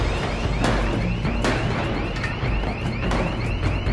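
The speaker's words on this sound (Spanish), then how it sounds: "¡Que alguien apague esa puta alarma!" A car alarm blares in a repeating cycle of warbling, sweeping electronic tones, loud and steady over several seconds amid a noisy, chaotic scene.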